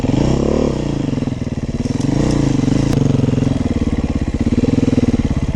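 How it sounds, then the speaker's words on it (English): Steady, loud single-cylinder engine note from the exhaust of a 2021 Beta 430 RR-S dirt bike, held at a near-constant idle-to-midrange putter with slight swells and dips as it rides through the woods, with no talk over it. "exhaust is nice and quiet, but it's still enough to scare animals off if you're tearing through the woods"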